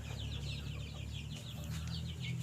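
Chickens cluck in a continuous farm chorus at a free-range kampung chicken (ayam KUB) farm, a steady layered murmur of calls over a low background hum, with no talk.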